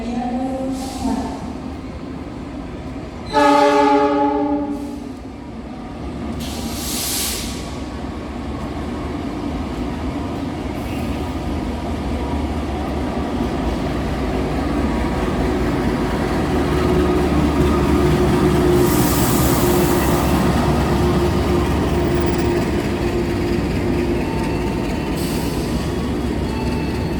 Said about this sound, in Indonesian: Masuk kereta api Wijaya Kusuma dengan tujuan ke stasiun Ketapang